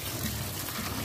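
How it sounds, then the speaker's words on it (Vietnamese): Cold tap water gushes steadily over freshly boiled bánh chưng, green-wrapped Vietnamese sticky rice cakes, rinsing off the slick cooking water; a close, continuous broadband rush with no talk. "Sau một vòi nước nguội này"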